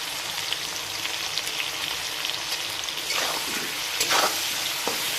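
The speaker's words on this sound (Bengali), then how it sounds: "দিয়ে ভালো করে কষিয়ে নিচ্ছি" Spices sautéing with turmeric and salt in a pan, a continuous close hiss of frying with scattered crackles and pops, growing a little busier with stirring scrapes toward the end.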